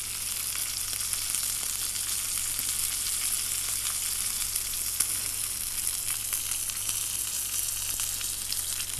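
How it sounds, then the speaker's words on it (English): Steak pressed fat-side down in a hot pan, the fat rendering out with a steady, dense sizzle and crackle that holds evenly at close range for the whole stretch, with no voices. "sear it on the side, on the fat, just to help get that fat a little bit crispy"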